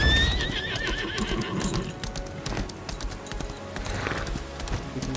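A horse in the online role-playing game Lost Ark neighs in a loud, wavering whinny at the start, followed by clip-clopping hooves and other game effects.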